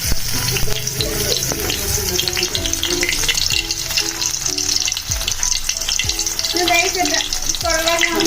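Dried fish fries in hot oil with a steady, dense sizzle that runs throughout. Occasional stirring scrapes and a faint voice sit beneath the crackle.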